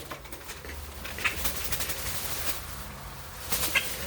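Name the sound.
bird flapping on a porch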